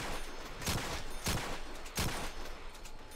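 Gunfire in Call of Duty Black Ops 3 Zombies: three sharp, evenly spaced shots ring out about two-thirds of a second apart over a constant noisy game background, with no talk.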